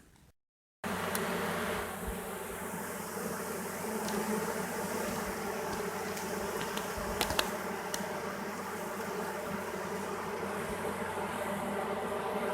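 A swarm of honey bees hums in a steady, dense buzz close by, with a few sharper passes of individual bees flying near, and no voices.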